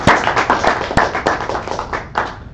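Loud, close clapping from a small audience after a capstone project presentation: irregular distinct hand claps over a few seconds, with no voices over them.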